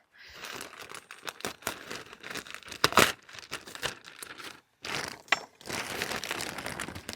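Crinkly plastic rustling and a few sharp tearing bursts as a plastic compost bag is cut open, close up, with brief pauses between the handling noises.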